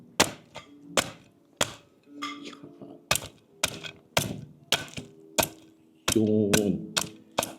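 Crisp roast suckling pig skin (cochinillo) is cut at a restaurant table, giving a series of sharp, loud crunching cracks at a roughly regular pace, about a dozen snaps close up, with a denser crackle near the end.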